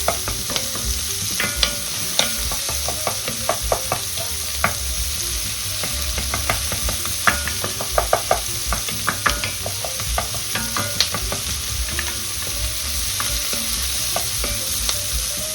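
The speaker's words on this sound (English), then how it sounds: "Now, I like to get the onions in just long enough to break them up." Onions fry in a pan for osso buco, a steady sizzle running throughout while a utensil stirs and scrapes in frequent, irregular clicks and knocks, close and fairly loud, with no talking.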